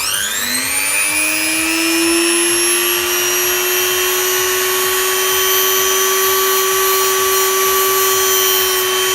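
Power sander working an MGB engine part held on a jig, a loud steady motorized whine that rises to speed and holds continuously, with no talk.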